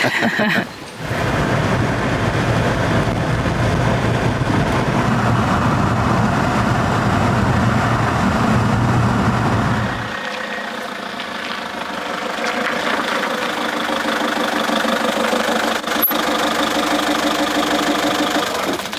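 Car engine running steadily while driving down a road to a historical site in a forest, a continuous loud hum with a drop in low rumble midway, as if easing off the throttle.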